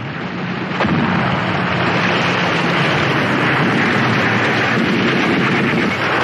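Cannon fire in a radio drama battle scene: a single sharp boom gives way to a sustained, loud roaring rumble, with no voices.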